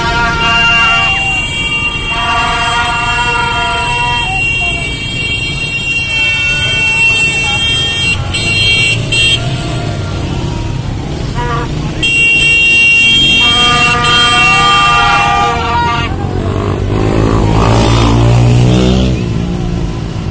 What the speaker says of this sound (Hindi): बच्चों ने बेतहाशा वो बाजे मार्केट में, आपने खुद देखा होगा, लोगों के कानों में वो बाजे बजाने के लिए